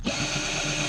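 Power drill whirring steadily while backing out stubborn screws inside a 1970 Coleman pop-up camper, one continuous close motor hum lasting under a second.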